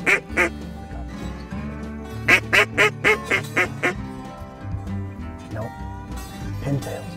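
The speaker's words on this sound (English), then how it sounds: "Giant flock of pintails coming down." Giant flock of pintail ducks coming down, with loud, close, repeated quacks in quick bursts and a burst of rapid calls in the middle, over a constant background hum and faint voices.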